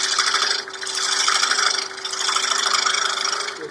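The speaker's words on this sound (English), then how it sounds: "I'm going to do a little pull cutting with my finger gouge." A finger gouge pull-cuts the rim of a spinning winged wooden bowl on a lathe, giving a steady close rasping scrape with a faint motor hum beneath, easing off briefly twice before resuming.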